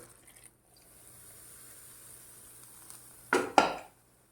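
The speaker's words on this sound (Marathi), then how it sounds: "सगळा गुळ वितळलेला आहे असं फेसळल्यासारखा दिसतो बघू शकता तुम्ही ओतून घेऊया" Melted jaggery poured into wheat flour for churma laddu, heard as a low quiet pour followed by two sharp clattering bursts near the end, like a metal pan knocking against the bowl.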